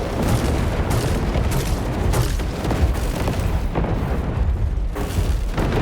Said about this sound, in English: I just love that little thingy where the explosions are so delayed.